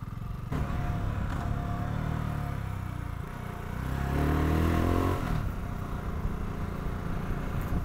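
BSA Goldstar single-cylinder motorcycle riding along old English country roads, a steady thumping engine note with wind rush that swells briefly as the bike accelerates, then settles back.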